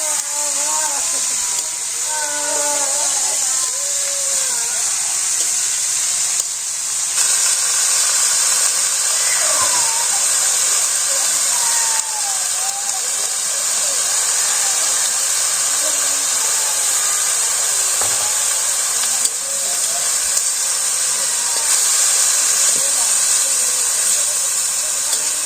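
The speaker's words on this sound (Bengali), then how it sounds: "একসাথে সব ভাজা ভাজা হয়ে যাবে" Onion, green chili and cabbage fry together in a pan, giving a steady, even sizzling hiss that runs without a break while a voice talks over it now and then.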